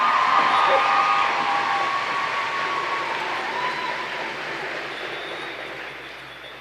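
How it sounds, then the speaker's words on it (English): A large crowd at the 2023 CRC opening ceremonies applauds and cheers the Lone Creek Dance Troupe, with sustained clapping and scattered whoops that slowly fade. "Let's give our Lone Creek Dance Troupe a big round of applause once again"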